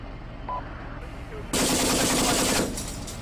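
Gunfire from a Leopard 2A4 tank position in the Steel Beasts simulator during a company town defense. A sustained, loud burst of automatic fire lasts about a second over low engine rumble.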